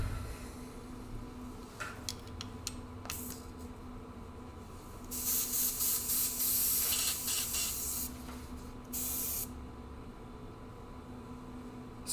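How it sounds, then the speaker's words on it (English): An airbrush hooked to a compressor at 60 psi is rinsed out, letting off short hissing spits and then longer sustained spray bursts, close and sharp against quiet background. "Just gonna rinse out this airbrush real quick."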